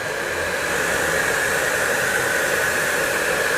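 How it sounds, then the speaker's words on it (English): A hair dryer runs continuously while drying paint on a scale model, a steady, fairly loud whirring hiss with an even tone and no pauses. "there are guys don't like to use the air dryer, but for me it's an essential tool"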